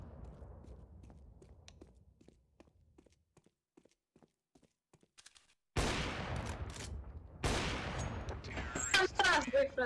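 Gunfire in the shooter game Counter-Strike: Global Offensive: sparse faint ticks and steps give way to two loud sustained bursts of shots with sharp cracks near the end, close and dense.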